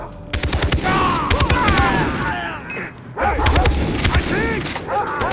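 Gunfire from a stolen rifle in Far Cry 3, with rapid bursts of shots crackling over a busy game soundscape, loud and close, while a voice talks over parts of it.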